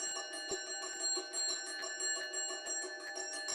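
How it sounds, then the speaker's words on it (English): A parliamentary division bell rings steadily, a bright continuous electric ringing with a rapid clapper rhythm, fairly loud and alone without talk. "Apologise for the division bell ringing here."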